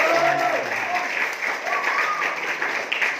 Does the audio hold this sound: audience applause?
yes